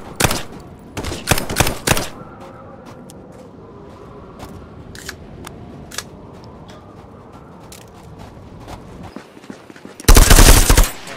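Rapid bursts of gunfire in the Contractors VR shooter, a tight cluster of sharp shots near the start and a loud dense burst near the end, with sparse scattered shots in between.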